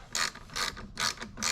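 A hand ratchet tightening a clamp under the hood of a 2022 Subaru WRX, four short clicking strokes in a steady rhythm, close and alone.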